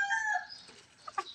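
A breeding hen makes a drawn-out call close by, followed by a couple of short, soft clucks.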